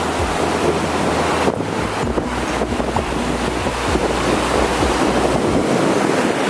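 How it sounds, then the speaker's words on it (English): Ocean waves crash and churn continuously on a Mexican coast while strong wind buffets the microphone, with no voices. "The waves are crazy today."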